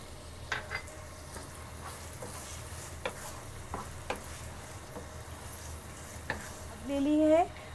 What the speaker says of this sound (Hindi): ये देखिए, इनको जितना हम अच्छे तरीके से भूनेंगे कीमे के साथ, ये उतना ही अच्छा फ्लेवर देंगे।